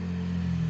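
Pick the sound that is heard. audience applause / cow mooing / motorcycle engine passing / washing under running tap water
motorcycle engine passing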